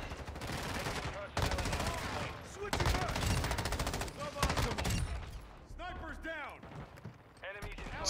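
M13B rifle fire in Modern Warfare 2, rapid bursts of near automatic gunfire repeated several times, sharp and loud, with someone talking over the shooting.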